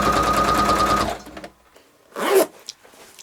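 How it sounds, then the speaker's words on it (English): A sewing machine top stitching along a zipper edge on a toiletry travel bag: a rapid, even mechanical whir for about a second, then it stops, followed by a brief rustle of fabric. "I'm going to go ahead and top stitch along the edge of the zipper"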